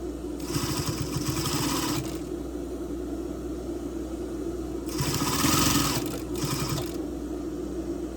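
A sewing machine stitches a bra seam in two bursts of rapid, whirring, chattering needle strokes, with a pause between them and a low steady hum underneath.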